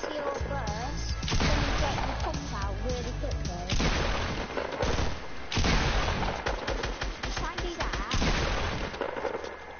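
Shotgun blasts from a double-pump technique in a video game, loud booming shots scattered through the clip amid game noise, with people talking over much of it.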